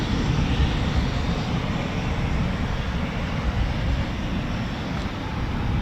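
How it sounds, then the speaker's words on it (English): A Eurofighter Typhoon FGR4 jet comes in to land at RAF Coningsby after flying circuits, its engine a continuous, loud roar that stays steady throughout. "we've got our other Typhoon who's coming in, the one that's been doing lots of circuits"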